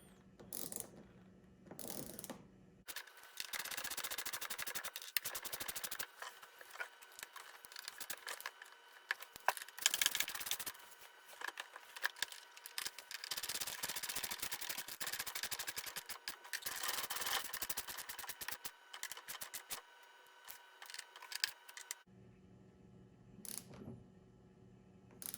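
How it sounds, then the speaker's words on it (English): Bolts being tightened down while fitting a John Deere Select Series armrest kit: repeated close ratcheting clicks and metallic scraping run nearly continuously, broken by a few short pauses, with no talking. "just put all your bolts in, tighten them down"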